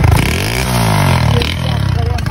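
A Pulsar motorcycle with a newly fitted carburetor revs nearby, its engine note climbing and then dropping. A loud voice talks over the clattering engine.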